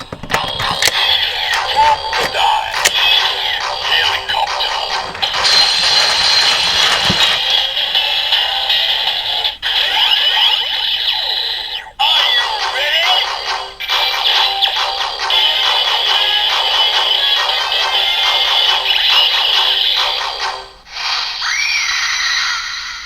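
Kamen Rider Build toy transformation belt with the crocodile Full Bottle, blaring a loud electronic announcement of synthesized fanfare, crowd-like cheers and mechanical ratcheting effects that run continuously for over twenty seconds.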